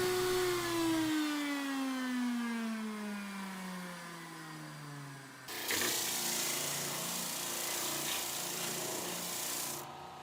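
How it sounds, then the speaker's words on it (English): A router table cuts a 60-degree chamfer into the top of a wooden pyramidal keepsake box. The motor whines as it winds down, then a loud, steady roar follows. "take it over to the router table and put the exact same chamfer in the top of this"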